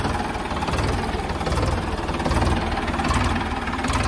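A modified Ford 3600 tractor's diesel engine idles close by with a steady, even throb and rattle that runs unbroken throughout.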